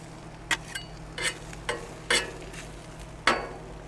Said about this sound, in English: we want to make sure we get the onions nice and done, get the green peppers nice and done